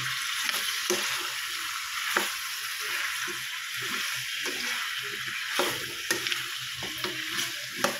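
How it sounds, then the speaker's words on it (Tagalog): Chayote and chicken sautéing together in a pan for native chicken tinola, a steady close sizzle with scattered stirring clicks and scrapes throughout, no talking. "Lalagyan natin yung sayote. Sasabay ko sa gisa."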